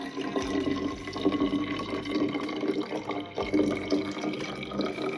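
Water poured into a drink while making it at home, a steady liquid trickle and splash running throughout, moderately loud with faint background noise and no talk.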